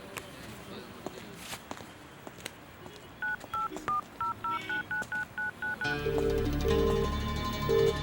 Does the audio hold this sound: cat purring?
no